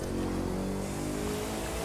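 Bugatti Chiron engine in the racing game The Crew 2, a loud sustained high-revving roar at full throttle, dense and steady through the short moment with no voices.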